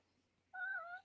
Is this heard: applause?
no